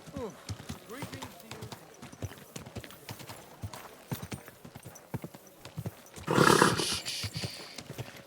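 Horse hooves clip-clop in a steady walking rhythm, then a loud whinny bursts out near the end, with voices in the background.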